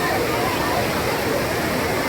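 Steady, loud roar of the Kodiveri dam waterfall where people bathe, a dense wash of falling water throughout, with faint crowd voices blended into the rush.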